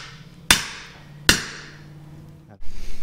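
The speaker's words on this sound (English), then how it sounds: "use the 4-pound to drive that hammer in and see if it would just make me a cup" A four-pound hammer strikes metal twice on a shim being shaped into a cup for a Model T built for abandoned railroads. Both blows are sharp, loud and ringing, about a second apart, followed by a quieter clatter.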